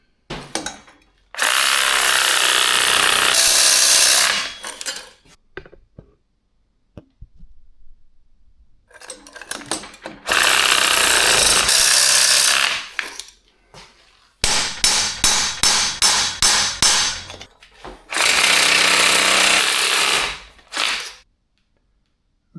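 A seized piston is cut and hammered out of a BMW R75/5 Airhead cylinder, with loud, close bursts of harsh power-tool grinding broken by silences and a quick run of sharp repeated impacts.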